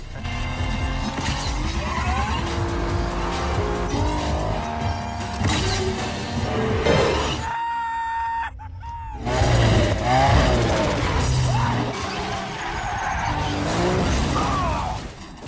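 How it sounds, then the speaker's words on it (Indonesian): Race cars roar and skid through a film street race in Two Fast Two Furious, engines revving loudly with squealing tires throughout, a brief drop in the middle before the engine noise surges back. "Dengan teknik barunya yaitu dupak-dupak pedal gas, Brian akhirnya mampu menyelip Jack saat di tikungan"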